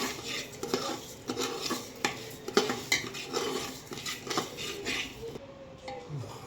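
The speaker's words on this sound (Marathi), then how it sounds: "याच्यामध्ये ना ही दलिया घालून घेऊ याच्यामध्ये आणि याला चांगलं आता परतून घ्यायचं आहे" Broken wheat (dalia) is stirred and roasted in a pan for jaggery laapsi, with a utensil repeatedly scraping and clinking against the metal in an uneven, close rhythm and a faint sizzle beneath.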